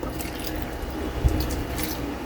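A small splash of water, about a quarter cup, poured into a cooking pot holding fish; a soft, steady liquid wash with one brief louder splash partway through, no voices.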